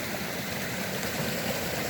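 A wilderness stream swirls and slows around a boulder, a steady broadband rush of flowing water close by with no voices over it.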